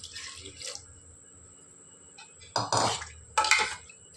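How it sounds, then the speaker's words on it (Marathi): Half a copper pot (tambya) of water is poured into a cooking pot holding oil and wajdi (tripe) in two short splashing bursts, separated by quiet moments with faint background noise. "आता टाकत आहोत आपण अर्धा तांबे पाणी"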